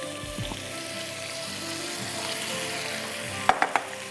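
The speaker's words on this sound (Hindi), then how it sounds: "अच्छी तरह मसालों के साथ आप चिकन को सॉटे होने दीजिए" Chicken sautés with coriander powder, salt and spices in a hot pan for Bohri biryani. A steady, close sizzle runs throughout, with a few sharp stirring clinks near the end.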